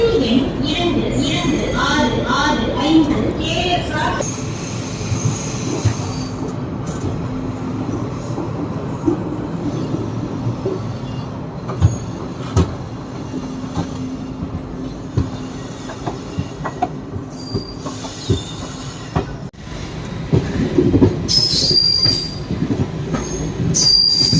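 A passenger train on the Salem–Karur–Trichy line pulls out of the station, heard from onboard as a steady rumble with squealing wheels and rhythmic clacks, while a voice talks over it.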